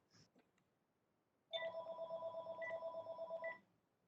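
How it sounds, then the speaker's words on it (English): A telephone rings once in a long, steady electronic trill lasting about two seconds after a few faint indoor sounds, heard alone at moderate volume. "my other phone was ringing just a long time"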